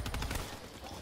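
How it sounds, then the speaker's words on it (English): Pistol gunfire in a casual zombie video game, a loud burst of rapid shots packed into the first half-second and trailing off into a dense, noisy tail. "I will just shoot you in the foot. With a pistol."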